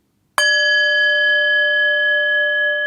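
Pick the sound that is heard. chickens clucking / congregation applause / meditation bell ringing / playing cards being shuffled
meditation bell ringing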